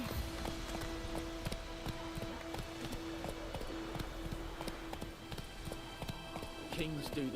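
Horse hooves clip-clop in The Witcher 3: Wild Hunt, a steady, rhythmic patter of hoofbeats at a trot, moderately near, over a constant background of game ambience and a sustained hum.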